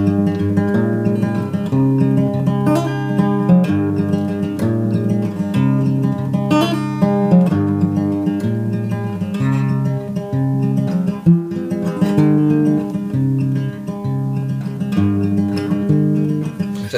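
An acoustic guitar fingerpicks the intro of a song, a steady, loud, rolling pattern of plucked notes over ringing bass strings that continues without talk.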